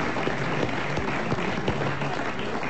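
A studio audience claps through a French comedy panel show, Les Grosses Têtes in 1997, a continuous, moderately loud patter that sounds slightly muffled and band-limited, with no talk over it.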